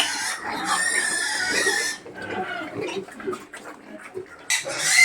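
Native pigs on a farm with piglets squeal loudly and continuously for about two seconds, then grunt and snort in shorter, uneven bursts before another sharp squeal rises at the end.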